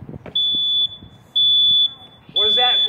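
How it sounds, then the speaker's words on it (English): Smoke detector alarm sounding in a home, three loud piercing steady beeps of roughly half a second each with short gaps, the last overlapping a person speaking nearby. "Hopefully you have a smoke detector in your bedroom"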